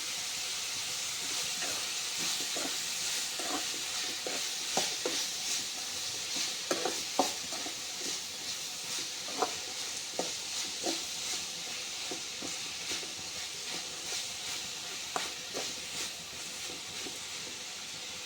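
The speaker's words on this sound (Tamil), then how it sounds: "நல்லா காய் வதங்கட்டும்." Vegetables with salt sauté in a pan for rava kichadi, a steady hissing sizzle with frequent light spatula taps and scrapes at close range throughout.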